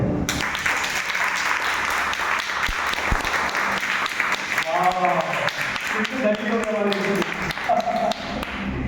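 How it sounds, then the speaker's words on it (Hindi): A church congregation claps together through a Sunday worship service, a steady dense wash of applause with a voice speaking over it partway through. "जो धनी है वही ताली बजाए।"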